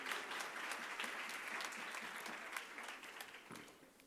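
Applause from a conference audience for award winners, a continuous patter of clapping heard faint and distant, gradually thinning toward the end.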